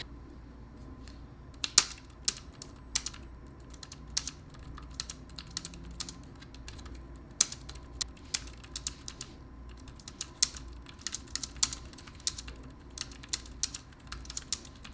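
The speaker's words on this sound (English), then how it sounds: "typing on this keyboard and hitting each key feels good" Steady typing on a Logitech K380 compact wireless keyboard, soft individual key clicks in an irregular run with a few sharper taps, close and quiet, no talking.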